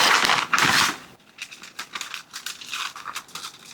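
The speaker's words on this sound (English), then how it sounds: "And now I want to get them in a vacuum sealed bag." Vacuum seal plastic bag crinkling up close, a loud crackling burst followed by lighter, intermittent rustles.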